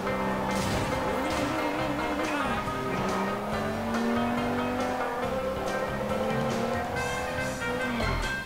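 A car races through city streets in the video game Sleeping Dogs, engine revving and shifting pitch with tire squeal over layered game music and sound effects, loud and continuous.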